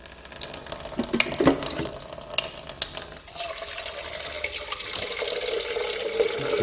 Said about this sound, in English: Better put some more water in.